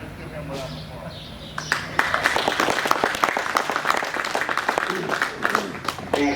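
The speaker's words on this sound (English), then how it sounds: "Let's give him a round of applause." Crowd applause at an outdoor colt starting challenge horse event: scattered clapping breaks out after a quiet, murmuring stretch and builds into steady, lively applause with voices mixed in.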